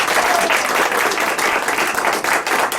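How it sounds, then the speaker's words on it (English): A studio audience at a live Nashville radio show breaks into loud, steady applause, dense clapping filling the room throughout without pause. "The first thing we need to practice is clap."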